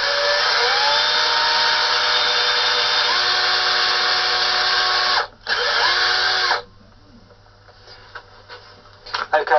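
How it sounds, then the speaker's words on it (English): A loud, close drill boring through a plastic bottle whines continuously for several seconds with a brief dip, then stops, leaving faint clicks and handling noises. "You drill bit in and just drill."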